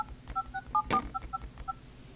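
Telephone keypad tones from the SendHub VoIP app on an iPhone: about eight short, evenly spaced dual-tone beeps in quick succession, moderately loud and alone.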